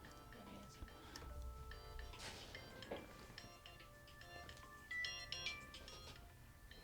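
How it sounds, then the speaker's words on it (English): A mobile phone ringing during a design session, a faint electronic ringtone of repeating melodic beeps with soft background noise behind it. "And why is my phone ringing?"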